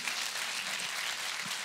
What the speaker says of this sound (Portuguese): Você consegue dar um aplauso ao Senhor por isso?